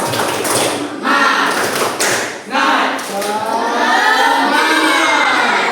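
A classroom group claps in a quick rhythmic pattern while voices shout a chant together, loud and close.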